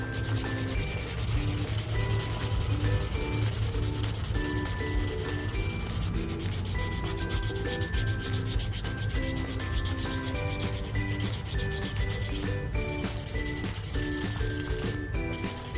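Hard gel nail extensions are buffed smooth with steady, rhythmic rubbing strokes. A soft scratchy friction continues close up under light background music.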